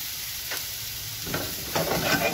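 White wine hits seafood in a hot pan, a steady soft sizzle and hiss that swells as the liquid goes in, with faint stirring scrapes underneath.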